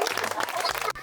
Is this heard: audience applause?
yes